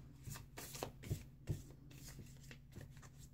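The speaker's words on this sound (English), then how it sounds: "I'm just going to shuffle these really quickly" A deck of angel oracle cards shuffled quickly by hand, giving a run of soft papery riffles and slaps at close range, with no talking.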